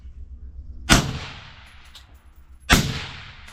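A Gordy carbine clone rifle fires two loud single shots about two seconds apart, each a sharp crack followed by a decaying outdoor echo.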